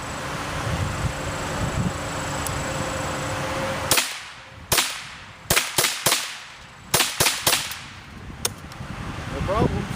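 Eight rounds of Fiocchi ammunition fired in quick succession, loud sharp cracks in tight clusters with short gaps, following several seconds of quiet outdoor background.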